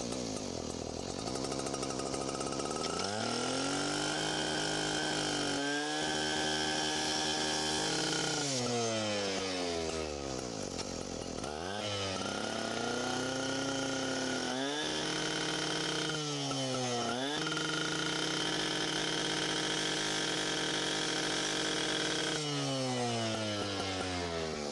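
Power saw with a high revving whine cutting diagonally through a metal roll-down gate during a forcible entry demonstration, loud and continuous with repeated pitch drops and rises as the blade bites into the steel slats.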